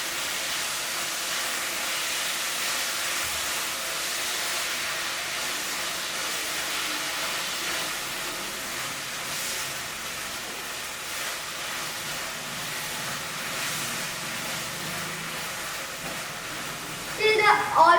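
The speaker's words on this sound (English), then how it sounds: "then just fry it a bit" Vegetables and noodles frying in a pan, a steady loud broadband hiss and sizzle that holds evenly throughout, with a brief clatter near the end.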